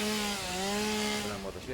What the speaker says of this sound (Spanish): Una motosierra